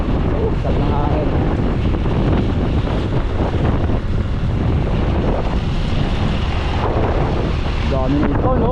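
Strong wind buffets the microphone by the sea, a constant loud rumbling roar with gusty swells throughout, and a voice speaks briefly under it.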